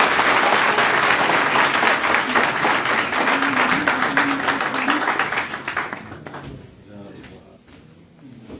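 A crowd at a BJP headquarters in Trikuta Nagar, Jammu, claps loudly and steadily for several seconds before the applause fades, with voices talking underneath.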